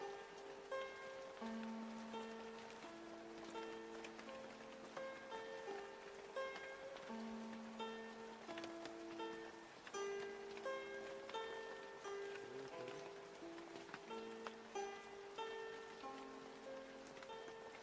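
Heavy monsoon rain falls through a Sikkim forest, a steady dense patter of drops on leaves and surfaces, continuous and close, with tonal calls ringing over it throughout.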